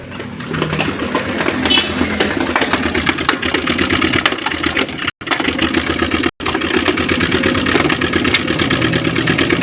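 A Yamaha Aerox V2 scooter engine with a noisy cylinder head runs continuously and roughly, loud and near, with uneven knocking and sputtering and two brief cut-outs.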